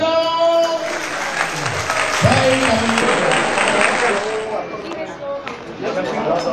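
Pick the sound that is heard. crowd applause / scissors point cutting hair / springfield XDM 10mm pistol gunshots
crowd applause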